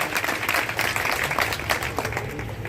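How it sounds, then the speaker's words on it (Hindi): Crowd at an election rally in Sirsa claps to welcome ward candidates, a steady dense patter of applause filling the moment without any voices over it. "जरा जोरदार तालियों से इनका स्वागत है।"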